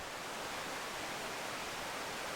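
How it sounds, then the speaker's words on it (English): A steady, dense wash of soft hissing water, like fine mist or distant spray, unbroken and even throughout; a misty water ambience synth patch in Omnisphere 2. "This is the misty sound."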